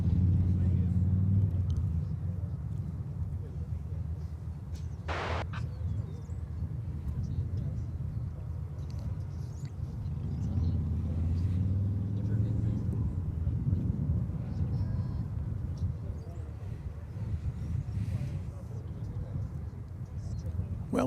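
A loud car or motorcycle engine at Dallas/Fort Worth Airport gives a steady low rumble through the whole stretch, swelling around the middle. A short sharper burst cuts in briefly, and people talk faintly underneath.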